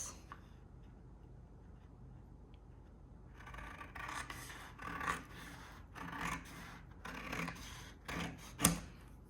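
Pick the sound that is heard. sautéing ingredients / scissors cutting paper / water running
scissors cutting paper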